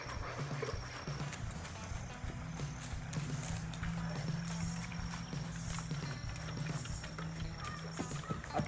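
Horse hooves clip-clopping in a steady, rapid marcha gait during training for a gaited-horse competition, close and continuous for the whole stretch, with faint voices now and then.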